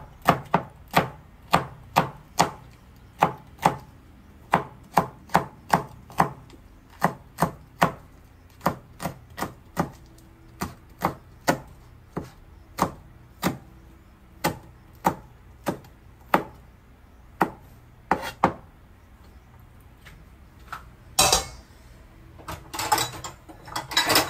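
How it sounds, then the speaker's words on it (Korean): A knife finely slicing cheongyang chili peppers on a cutting board: a fast, even series of sharp, close taps, about thirty strikes, then a brief scraping clatter near the end. "총총총총 채썰어가지고 그릇에 담아주세요."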